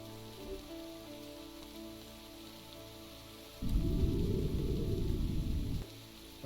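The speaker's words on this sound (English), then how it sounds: "Where am I hearing rain?" Steady rain falling, a soft hiss under a humming tonal background that swells into a louder, denser downpour for about two seconds before dropping back.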